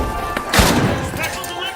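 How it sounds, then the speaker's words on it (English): A solar grenade detonates in a video game, a single burst with a short rumbling tail heard over steady game background noise and a speaking voice. "Solar grenade out."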